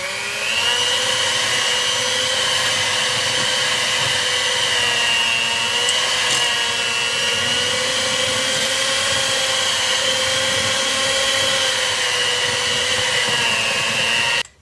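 Electric hand mixer whirring steadily through thick 7up pound cake batter, a continuous loud motor drone with a strained pitch that holds for about fourteen seconds before cutting off abruptly at the end.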